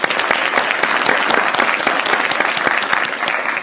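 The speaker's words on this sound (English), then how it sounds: "I want to give a round of applause to those people." Audience applause at a county public hearing, a steady burst of clapping from a seated crowd that holds throughout, close and loud with no talking over it.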